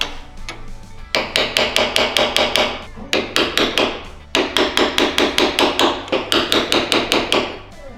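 A hammer strikes a chisel to drive a part on a Ford ZF6 transmission being fitted to a Cummins-powered truck, delivering loud, close, rapid metallic blows in several rhythmic bursts of about eight to ten hits each, with no talking.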